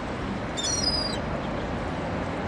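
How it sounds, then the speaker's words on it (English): A single large gull in Glasgow gives a brief, loud, harmonic call over steady outdoor wind and traffic noise. "Oh, and there's a big seagull."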